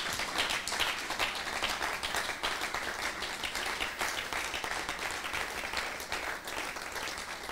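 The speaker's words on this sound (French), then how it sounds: "acclame d'abord le Seigneur très fort pendant que tu te tiens debout là" A church congregation breaks into loud, sustained applause, a dense wash of many hands clapping steadily throughout without pause.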